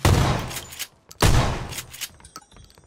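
Two loud, close bursts of rapid gunfire in PlayerUnknown's Battlegrounds, each a sharp crack that fades over about a second, followed by fainter scattered shots.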